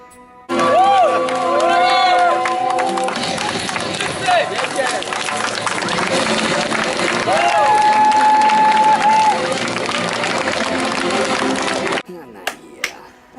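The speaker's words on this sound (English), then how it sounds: "I can't help but giving myself applause." A crowd applause and cheering sound effect fills the clip, a loud, dense, continuous wash of clapping, shouting and whistle-like cries that runs for about eleven seconds before cutting off abruptly.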